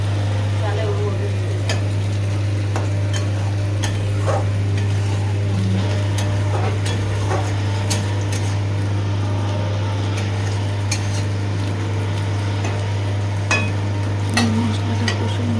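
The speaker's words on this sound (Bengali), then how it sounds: "মশলাটা কষে নিচ্ছি।" Spice paste stir-fried in a pan, giving a steady frying texture with scattered scraping clicks from the spatula, all over a constant low electrical hum.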